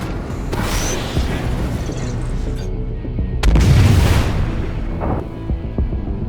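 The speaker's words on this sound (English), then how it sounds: "Finish it off with a missile." A missile striking an enemy ship in the Star Citizen space combat game, a heavy booming explosion with a rumbling swell in the middle, set among ongoing engine noise and smaller pops.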